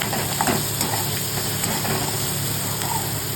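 Chopped onion fries in hot oil with salt for poha, a steady close sizzle with scraping stirs across it and a faint constant hum behind.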